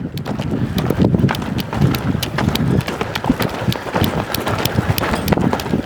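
A young colt lopes across the ground, hooves thudding in a quick, steady three-beat rhythm close by, with light wind noise and faint rider movement between strides.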